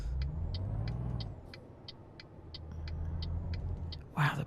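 A 750-horsepower truck engine in Euro Truck Simulator pulls hard with a steady low rumble, a rising then falling whine, rhythmic clicking ticks overhead and a short burst of noise near the end.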